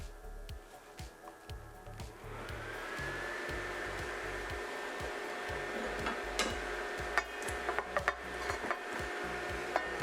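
Butternut squash pieces tumble into a pot of onions, a few dull knocks and thuds, then a steady loud sizzle of frying that carries on with occasional clatter of stirring.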